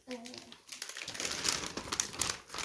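Plastic shopping bags crinkling steadily as they are packed, close and continuous, with a voice briefly heard at the start.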